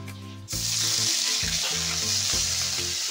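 Onion paste hitting hot oil in a crab curry pan: after a brief quiet moment, a loud sudden hiss erupts and continues as a dense close sizzle with periodic stirring thumps.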